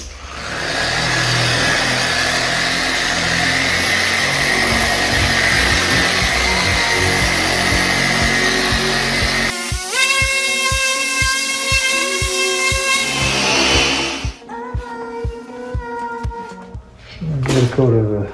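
A polisher with a soft pad buffs the body of a John Deere D140 lawn tractor, first a loud steady whirring drone, then broken bursts of tonal buzzing that stop and start before ending.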